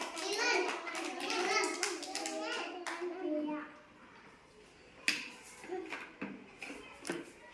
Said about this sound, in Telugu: కొట్టండి మా, క్లాప్స్ కొట్టండి నాన్న.